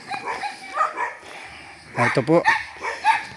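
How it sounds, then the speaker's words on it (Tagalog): Several dogs kept at a house bark and yip in quick bursts, fairly close, mixed in with people talking nearby. "Maraming aso. Maraming siyang alaga."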